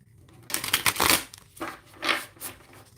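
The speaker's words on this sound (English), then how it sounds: "You want to see me shuffle?" A tarot deck is shuffled in a few quick riffling bursts, crisp papery rushes separated by brief pauses, close to the microphone with no voices.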